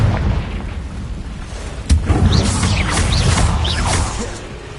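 Confringo blasting spells fired in the video game Hogwarts Legacy, a booming burst near two seconds over a continuous rumbling, whooshing battle backdrop with sweeping magical swishes.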